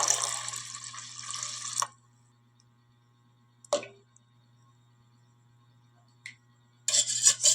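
Two cups of water are poured into a mango gulaman cake mixture: a steady splashing pour of about two seconds, then a silence broken by a couple of small knocks, and a second short pour at the end.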